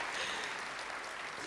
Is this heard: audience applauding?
yes